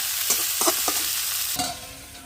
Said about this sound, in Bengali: নেড়ে চেড়ে এগুলো যাতে নিচে ধরে না যায় জাল দিতে হবে